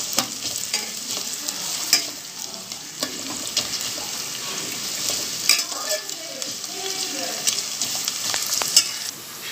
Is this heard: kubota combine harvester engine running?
no